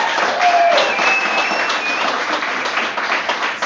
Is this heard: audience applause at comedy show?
yes